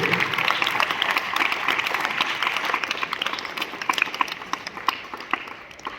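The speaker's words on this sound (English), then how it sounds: "let's give a nice clap to these students who conducted the assembly today" Students at a school assembly clap together in a loud, busy burst that gradually thins into scattered individual claps toward the end.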